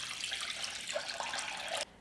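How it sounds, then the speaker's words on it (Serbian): Hot water running from a tap into a pot, a close steady gush and splash that cuts off abruptly near the end. "Napunit ću šerpu sa vrućom vodom do visine poklopca."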